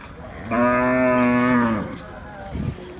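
A single loud, drawn-out moo from a nearby Khillar bull at the Sangola cattle market, lasting over a second, with faint outdoor crowd noise behind it.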